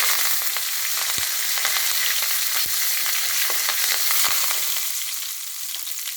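Curry leaves crackle in hot oil for brinjal and cowpea kara kuzhambu, a dense bright sizzle punctuated by a few sharp pops and spoon knocks, easing slightly toward the end.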